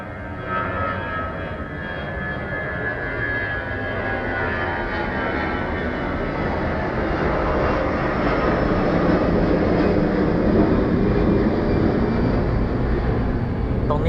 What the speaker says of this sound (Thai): พอติดสนามบินก็จะมีเสียงของเครื่องบินมาด้วย